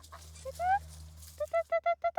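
Geese grazing in the vineyards of Champagne's Marne area honk in a quick series of short, loud, evenly spaced calls over a low steady hum, after a few quieter, scattered honks at the start.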